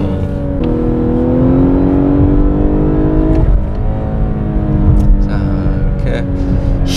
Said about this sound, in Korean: 상당히 엔진 사운드가 좀 인상적으로 좀 강하게 들어오죠